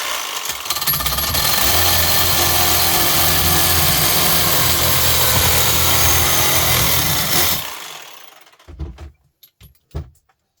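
A power tool grinds and cuts through a part of a brass gas torch, a loud, sustained harsh buzzing roar for about seven seconds that winds down, followed by a few clattering knocks.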